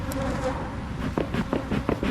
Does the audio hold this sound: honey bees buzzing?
yes